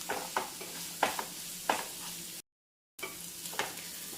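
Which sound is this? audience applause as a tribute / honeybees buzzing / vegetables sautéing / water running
vegetables sautéing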